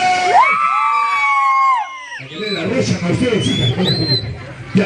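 Students at a school Youth Day celebration cheer and shout for their teachers, a loud, dense crowd roar of overlapping young voices with whoops, following a brief drawn-out call at the start.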